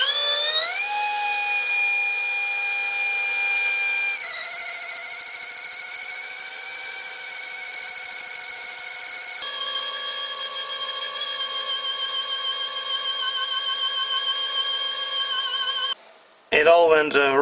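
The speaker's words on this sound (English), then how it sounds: "So this cut-off disc was my best option for grinding this drill bit." A cut-off disc grinds a drill bit, giving a loud, steady high-pitched whine that holds for about sixteen seconds with slight shifts in tone, then stops abruptly before a brief final clatter.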